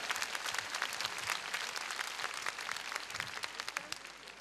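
An audience at a charity memorial concert in Varna applauds a singer, a continuous, fairly distant wash of many hands clapping with no voices over it.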